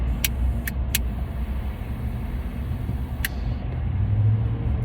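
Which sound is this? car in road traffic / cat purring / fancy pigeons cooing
car in road traffic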